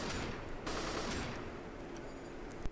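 Rapid automatic AR2 rifle gunfire in a video game, using Counter-Strike weapon sounds, rattles in a dense continuous burst that ends on a sharper final shot.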